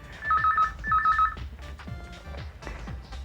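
A telephone rings indoors in two bursts of trilling electronic tones at the start, followed by clicks, thumps and scattered knocks in a quiet room.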